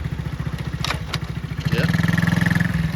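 An engine idles close by after being revved, throbbing in a fast, even pulse that steadies and grows a little louder toward the end, with a few sharp clicks early on.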